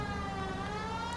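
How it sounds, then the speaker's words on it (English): A police car siren wails steadily in the L.A. Noire video game, a continuous tone heard alone and fairly faint. "Right, sirens on."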